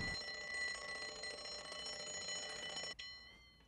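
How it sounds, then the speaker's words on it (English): A loud electronic alarm clock rings continuously with a steady bright beeping tone for about three seconds, then cuts off abruptly, leaving a faint fading tail. "Setting your alarm clock for 4 a.m."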